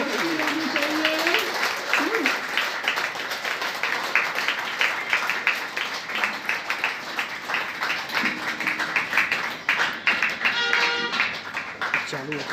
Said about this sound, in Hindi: हम सब ताली बजाने में कंजूसी ना करें। तालियां बजती रहनी चाहिए।